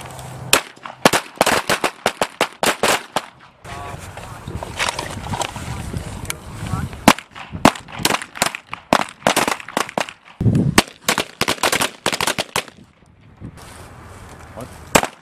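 P320 M17 pistols fire during army handgun training, a rapid, irregular string of sharp, loud cracks that cluster and overlap across the whole stretch, with brief lulls between volleys.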